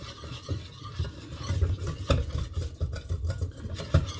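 Flour toasting in a pan, stirred steadily with a spoon that scrapes and taps the pan in close, repeated strokes over a soft sizzle.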